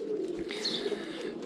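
Domestic pigeons coo softly in a loft, a low repeated murmuring with faint higher chirps above it, no voices.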